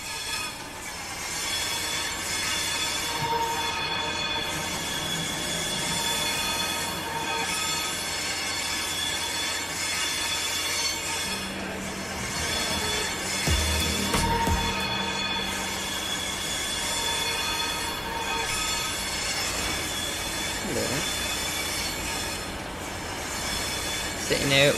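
Steady rumble and hiss of a TGV train at a station, with a low horn-like tone and some metallic clanks partway through, loud and enveloping.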